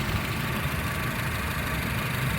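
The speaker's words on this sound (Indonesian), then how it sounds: "suasana mesinnya ya" A 2008 Honda Civic FD1 with automatic transmission idling, a steady, even engine hum held close and constant with no talking.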